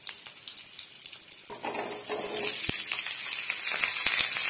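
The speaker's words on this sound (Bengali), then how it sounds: "এবার এর মধ্যে আমি আলু আর টমেটোটা দেবো।" Potatoes and tomatoes go into hot oil in a pan while cooking alu posto, and a steady hissing sizzle rises and continues, with a few sharp clicks.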